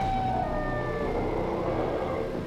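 A Siren Head creature lets out a loud, continuous siren wail with slowly falling, sweeping tones over a dense low rumble, steady throughout and close.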